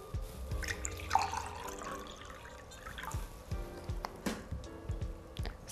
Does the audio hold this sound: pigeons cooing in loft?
no